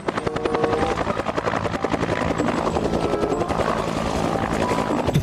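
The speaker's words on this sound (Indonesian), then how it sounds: "Wih, ini helikopter angkatan darat." An army helicopter gives a loud, steady rotor chop with buzzing engine drone, close and continuous throughout with no voices.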